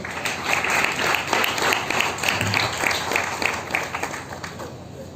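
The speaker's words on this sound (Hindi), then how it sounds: "जोरदार ताली गीता बेन के लिए।" Loud, sustained applause from a women's panel audience at a team meet in Wadala, dense clapping filling the room steadily throughout with no voices over it.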